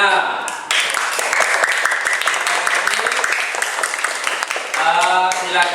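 A classroom of students gives applause for everyone after group presentations, a dense burst of clapping that runs throughout with a voice speaking briefly at the start and end.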